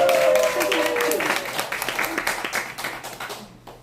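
Applause from the audience at a laughter-instructor speech class, loud and dense at first, then thinning into scattered claps that fade out toward the end.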